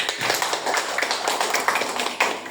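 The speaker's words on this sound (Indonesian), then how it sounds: "Tepuk tangan dulu" A classroom of pupils claps hands together, a dense patter of many quick claps at close range that keeps going without a break.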